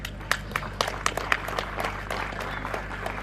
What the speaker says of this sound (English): That also deserves an applause.